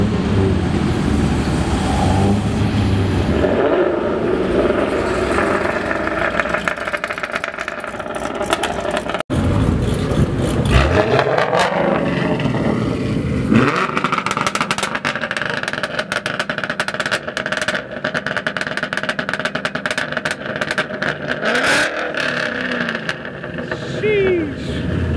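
A Ford Mustang GT revs hard as its catalytic converter fails, a loud engine roar that gives way to a dense run of sharp crackling pops and bangs in the second half.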